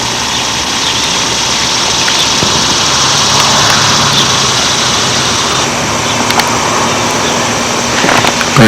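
A radio-controlled model airplane engine fitted with a tuned pipe drones steadily at high pitch, a continuous buzzing whine that holds fairly even over several seconds outdoors at an airfield, with no talking.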